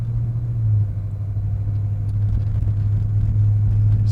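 A 1967 Pontiac GTO classic muscle car engine idles with a deep, steady low rumble, close and loud, with no voices.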